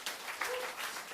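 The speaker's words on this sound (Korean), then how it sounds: "박수 한번 쳐주십시오." Church congregation clapping after a baptism lesson, a brief soft burst of scattered applause heard from some distance, fading quickly.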